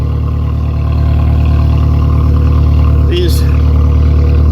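A Toyota Tacoma pickup's engine hums steadily at a constant drone while the truck is put in gear and driven, close and loud with an even, unchanging tone.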